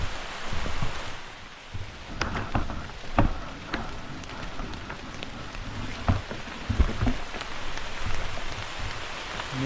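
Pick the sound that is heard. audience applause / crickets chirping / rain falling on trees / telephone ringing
rain falling on trees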